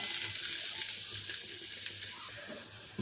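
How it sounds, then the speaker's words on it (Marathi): Onions frying in a pan until browned for a dhaba-style egg curry, a steady bright sizzle with occasional crackles and soft stirring sounds, moderately close and alone without talk. "कांद्याला छान लालसर रंग येईपर्यंत आपण परतून घ्यायचं"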